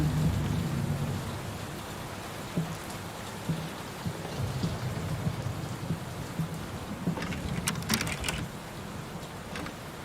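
Steady rain from the horror video game Layers of Fear, a soft continuous patter with a few crackling drops and a faint rumble of distant thunder near the end.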